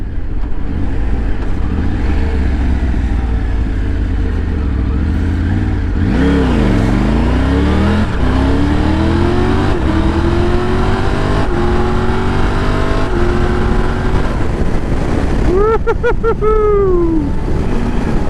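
A Triumph Tiger 900 motorcycle accelerates hard in sport mode, engine revs rising and dropping with rapid quick-shifter gear changes, loud and close with strong wind rush; a final surge climbs steeply near the end.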